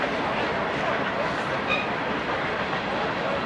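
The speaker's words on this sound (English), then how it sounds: "You see the train in the background here." Train rolling past in the background at a night high school football game, a continuous broad rumble with a faint high screech midway, under crowd noise and commentary.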